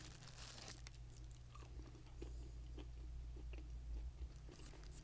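Close, quiet chewing of a dried extruded fruit snack, with soft repeated crunching and biting ticks over a steady low hum and no talking.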